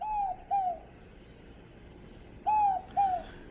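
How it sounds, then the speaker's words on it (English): Two pairs of soft, low cooing notes from a dove of the Columbidae family, each pair falling slightly in pitch, heard alone outdoors at moderate distance with a pause between the pairs. "There it is again, our mystery bird. A member of the Columbidae family."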